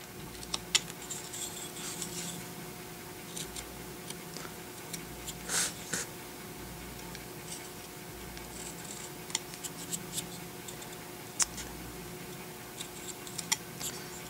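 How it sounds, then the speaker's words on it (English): Knife blade carving wood on a Santa face, with sharp scraping cuts and small clicks scattered irregularly over a steady low hum, close and fairly quiet, no talking. "You can even carve up into the eye socket."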